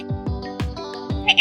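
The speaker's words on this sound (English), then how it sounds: "I'm a sheep, the symbol of gentleness, softness, and silent dedication." Sheep bleating in an animated animal setting: a run of short, close bleats, about five in quick succession, with a brighter, higher call near the end and no speech.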